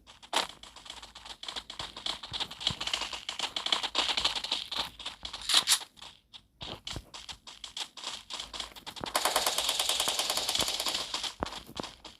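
A newly added gun in the Free Fire mobile game fires in quick, light bursts of sharp clicking shots, a long stuttering volley near the end under a clattering game background.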